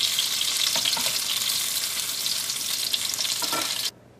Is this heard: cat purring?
no